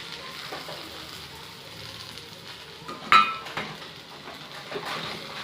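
Okra and fried potato sizzle softly as they are stir-fried in a pan, a low steady frying hiss broken by a sharp metallic clink and a few scraping stirs of a utensil against the pan.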